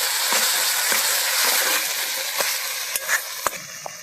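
Homemade masala paste sizzling in oil over a wood-fired stove while cooking chicken gravy, a steady close crackle with a few sharper pops and stirring scrapes.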